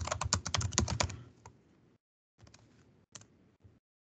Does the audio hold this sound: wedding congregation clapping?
no